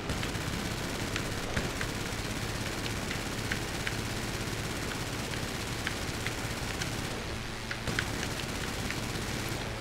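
Continuous rapid machine gun fire at a plane in GTA 5 Online rattles on at a steady, dense pace, with a brief dip near the end before it resumes.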